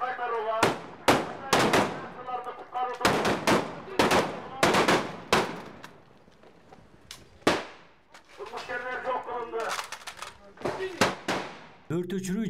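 Sharp, loud bursts of gunfire crack out in rapid clusters during a civil defence anti-terror exercise with special forces, separated by short pauses, with voices and other activity underneath.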